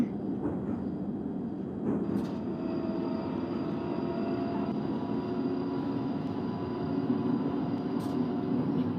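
A Northern line train on the London Underground, driven in the OpenBVE simulator game, rumbles steadily at a low level as it runs in toward Charing Cross, with a faint high whine and a couple of brief clicks.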